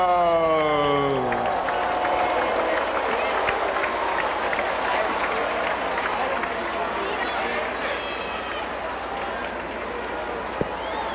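A crowd at a basketball awards ceremony applauds and cheers in a large hall, with broad sustained clapping under a voice on a public address system that slowly tapers off.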